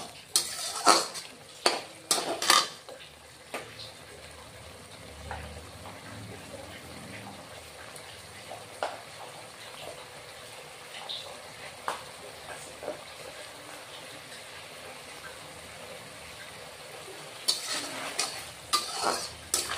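Stirring and frying in a pan for mustard fish curry, with clinking utensil strikes against the pan over a soft sizzle, loudest in short bursts at the start and end.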